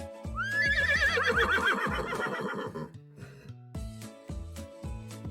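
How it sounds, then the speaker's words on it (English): A horse gives one loud, quavering whinny lasting a couple of seconds, with upbeat music playing beneath and carrying on afterward. "Horse."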